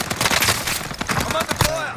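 Rapid gunfire in Call of Duty Vanguard, a loud close burst of repeated shots with uneven rhythm over two seconds, mixed with game voice chatter.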